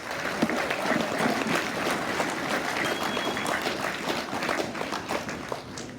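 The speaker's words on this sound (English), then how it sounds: "please give a huge round of applause to our filmers, our editors, and our animators" An audience at a school media red carpet gala applauds, a steady, dense wash of many hands clapping at once, even in loudness throughout.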